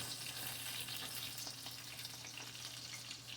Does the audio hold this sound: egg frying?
yes